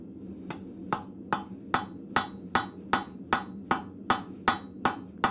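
A blacksmith strikes a rivet on flat bit tongs in a forge, about thirteen sharp ringing hammer blows in an even, steady rhythm, close and clear, with no talk.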